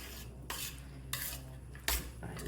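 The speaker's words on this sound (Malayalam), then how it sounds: "ഇളക്കി സെറ്റാക്കട്ടെ" A spoon stirs payasam, a sweet pudding, in a metal pot. Three distinct scraping, clinking strokes land about a second apart over a soft background hum, close and fairly loud, with no voices.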